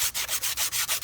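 Sandpaper scrubs back and forth across Jeep Comanche bodywork in quick, even strokes, about seven rasping passes in a second, close and alone.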